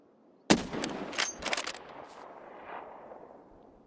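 A loud gunshot cracks in Escape From Tarkov, followed by a few quicker bursts and a long fading echo that trails off across the rest of the moment.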